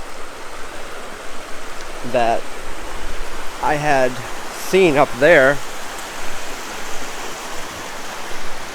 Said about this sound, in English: this is that river that runs through here